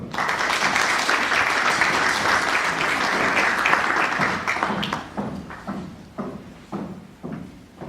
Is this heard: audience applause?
yes